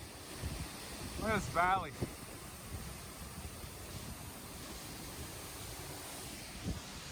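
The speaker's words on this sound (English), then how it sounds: "I'm sure the breeze, you can hear it, and I apologize if it's really loud" Wind buffets a microphone near Felkers Falls, a waterfall: a steady, broad rushing roar runs throughout, while a voice speaks briefly near the start.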